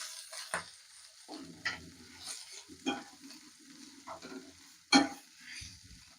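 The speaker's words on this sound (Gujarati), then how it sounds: "એને બરાબર મિક્સ કરી લઈશું" Potato spice mixture with pepper powder and chili flakes is stirred in a frying pan, giving soft scraping strokes over a low sizzle, with a few sharper spoon knocks against the pan and no talking.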